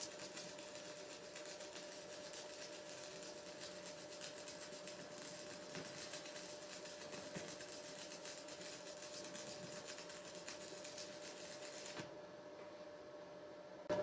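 Stick welding arc from an MP 200 welder, a steady dense crackle and hiss held close and continuous for about twelve seconds with a constant hum underneath, then the arc cuts off abruptly.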